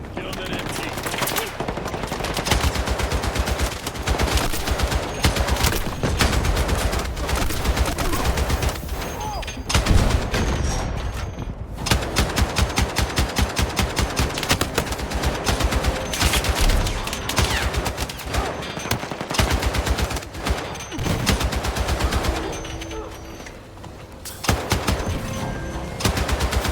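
Sustained machine gun fire in the Battlefield 6 campaign, dense rapid bursts running almost continuously and loudly through the scene, with brief gaps, layered with distant explosions and battle noise.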